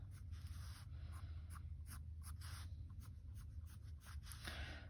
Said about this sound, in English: with a sharp pencil